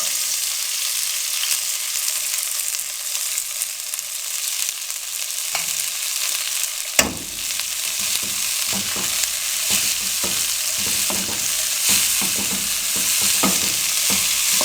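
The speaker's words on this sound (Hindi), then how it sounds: "अब इसे हम अच्छे से 10 मिनट के लिए इसे फ्राई करेंगे।" Cabbage frying in hot cooking oil: a loud continuous sizzle with stirring scrapes and taps joining partway through, close and without speech.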